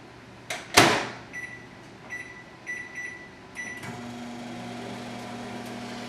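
A kitchen microwave oven is shut and started with a sharp door thud, a few beeps from the keypad, and then a steady low hum as it runs.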